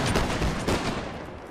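A musket volley in a Napoleonic-era battle game, a ragged burst of many overlapping shots crackling at once, loud and close, then trailing off into rumbling echo.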